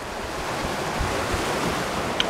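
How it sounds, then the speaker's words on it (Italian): Ocean waves washing onto the shore with backwash and white foam, a steady rush of surf and some wind buffeting the microphone, no voices. "Onda battigia, schiuma bianca"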